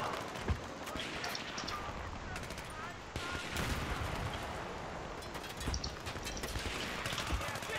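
Suppressed MG36 rifle firing in burst mode in Battlefield 3, a dense run of muffled shots packed into a continuous, busy mix with other game gunfire and explosions.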